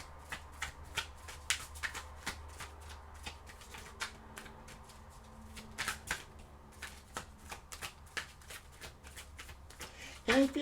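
Tarot cards shuffled in repeated crisp riffling bursts, close and moderately loud, with a brief pause midway and a louder handling clatter at the end.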